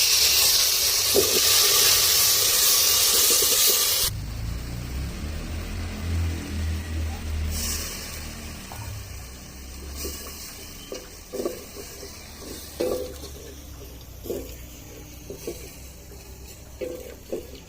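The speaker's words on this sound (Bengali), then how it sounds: "একটু নাড়াচাড়া করে নেব আদা রসুন কাঁচা গন্ধটা চলে যাওয়া পর্যন্ত" Ginger, garlic and spices fry in a pan for a potato curry, hissing loudly and steadily for about four seconds, then settling into a softer sizzle broken by scattered scrapes and clinks of stirring.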